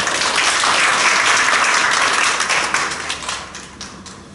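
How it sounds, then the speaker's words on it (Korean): A church congregation at a Korean elder, deacon and deaconess ordination service claps in welcome, a full burst of applause that thins out into scattered individual claps as it fades. "우리 박수로 환영하겠습니다."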